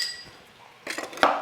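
Kitchen knives from a Henckels block set clink against each other as they are handled, a few quick bright metallic taps close up toward the end, following a quiet stretch.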